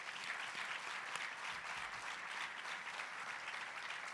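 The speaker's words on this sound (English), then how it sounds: "our great superintendent, Dr. Casada, let's give him a nice round of applause." Steady applause from a large audience, a dense wash of clapping that holds evenly from start to finish.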